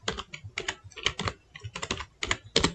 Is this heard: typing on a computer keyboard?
yes